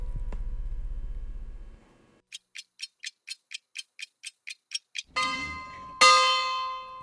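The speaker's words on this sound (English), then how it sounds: "There it is, the dismissal bell" A school dismissal bell sounds as a quick run of about a dozen evenly spaced, bright electronic pulses, then louder ringing chime tones close by, with no speech.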